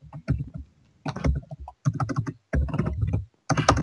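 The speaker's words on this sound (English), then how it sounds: "your keyboard is, like, really loud." Loud computer keyboard typing picked up through an online game voice chat, arriving in several dense bursts of rapid clacking keystrokes separated by short gaps.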